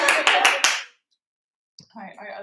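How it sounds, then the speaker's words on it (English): A comedian claps during a self-given applause break, four sharp, close claps in quick succession followed by silence and then a voice starting to speak. "I always give myself applause breaks."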